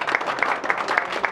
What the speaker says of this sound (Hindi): रज़ाक भाई, जरा भरपूर क्लैपिंग आनी चाहिए यार, बहुत सारी तालियां होनी चाहिए यहाँ पे ओपनिंग